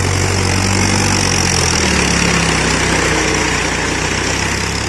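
A tractor works in a paddy field in a village, giving a steady, fairly loud engine drone that runs unbroken under broad rushing noise with no voices.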